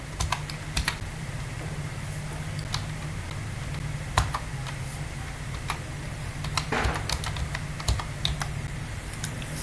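Typing on a computer keyboard, a steady run of light, close clicking keystrokes with irregular rhythm and occasional louder taps, alone over a faint background hum.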